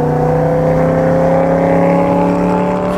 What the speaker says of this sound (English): I'm following my buddy Esteban in this absolutely beautiful 1 Series BMW.